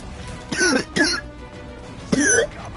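A person coughs and clears their throat in three harsh, close bursts, two in quick succession and one after a short pause, over a quiet background.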